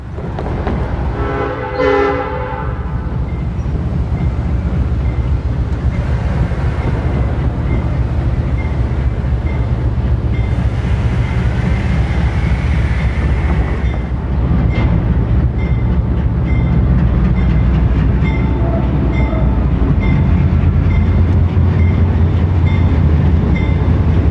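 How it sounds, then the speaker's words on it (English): An M&TR train rolls across a BNSF track through town, its horn sounding early and its engine rumbling steadily throughout with faint wheel clatter, loud and close, no voices. "the M&TR engineer pulls across the BNSF track to head through town"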